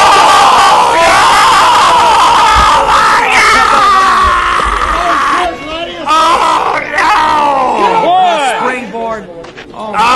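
At a wrestling event, an arena crowd screams and cheers loudly and continuously, swelling in waves, with a commentator talking excitedly over the noise.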